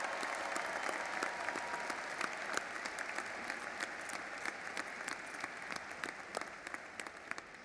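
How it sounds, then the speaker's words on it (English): A large commencement ceremony audience at WSU applauding steadily for the university community, workers and volunteers, a dense, even wash of clapping that carries on throughout. "Please join me in showing our appreciation with a round of applause for their efforts."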